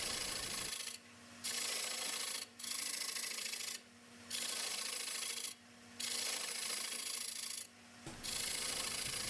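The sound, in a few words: round nose scraper cutting wood on a lathe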